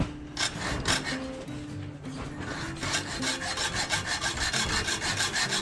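A saw cuts off the excess length of a silicone bronze bolt in a boat shed, with rhythmic scraping strokes that speed into a quick, steady back-and-forth, close and fairly loud, no speech.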